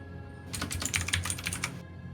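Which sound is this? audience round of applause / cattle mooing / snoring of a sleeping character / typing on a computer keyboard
typing on a computer keyboard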